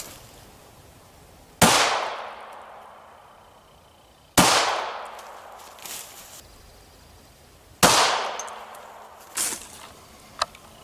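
Three separate shots from a Steyr M9A1 pistol firing Goldensaber bonded 9mm 147-grain rounds, each a sharp loud crack with a ringing decay, spaced a few seconds apart, plus quieter clinks between them.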